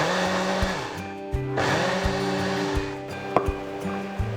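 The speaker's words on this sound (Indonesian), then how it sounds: "masukkan ke dalam blender, atau kalau kalian mau diulek juga itu bisa. Dan kita akan tambahkan air dingin. Blender." A blender whirs loudly and steadily, blending chilies with cold water, its motor pitch dropping and rising repeatedly as the contents churn, close up with no voices.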